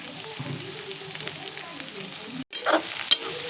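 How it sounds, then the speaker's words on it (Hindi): Shredded cabbage stir-fried in a pan with capsicum, a steady close sizzle with stirring scrapes that briefly cut out, then a louder burst of frying and clinks. "और फिर इसमें मैं ये पत्ता गोभी डाल दूंगी।"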